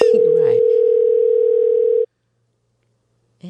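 An outgoing telephone call produces one loud, steady electronic ring tone lasting about two seconds after a brief voice at the start, then silence, with faint noise returning at the very end.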